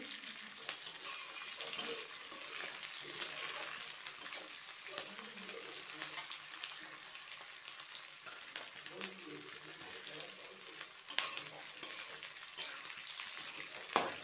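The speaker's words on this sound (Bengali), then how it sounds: "এইগুলো আমি প্রথমে একটু লাল লাল করে ভেজে নেব" Chopped chillies fry in oil in a pan, giving a steady, fairly soft crackling sizzle throughout, with scattered pops and stirring scrapes and a brief louder clatter near the end.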